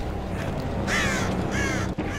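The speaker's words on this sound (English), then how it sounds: "Shut up, crows." Crows in the video game Dead by Daylight: a couple of harsh caws ring out over a dense, steady ambient background, one around the middle and another shortly after.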